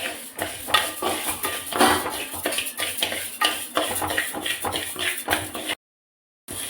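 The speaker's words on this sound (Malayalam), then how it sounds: "നമുക്ക് അരി ഇട്ട് കൊടുക്കാം." Rice grains tipped into a pan and dry roasted at home for sambar powder, giving a steady dry rattling and scraping of grains and utensil against metal, busy and close, cutting out briefly near the end.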